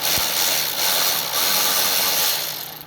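A 20 volt cordless ratchet spins a 10 millimeter socket with a loud, continuous whirring buzz up close, tapering off at the end, with no talk over it.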